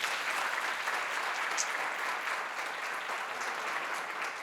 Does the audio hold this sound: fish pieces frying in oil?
no